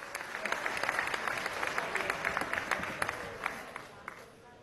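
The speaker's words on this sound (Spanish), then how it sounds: "nuestra felicitación, un aplauso." Members of the National Assembly of Venezuela applauding in the chamber, a moderate burst of many hands clapping with distinct sharp claps standing out, gradually thinning toward the end.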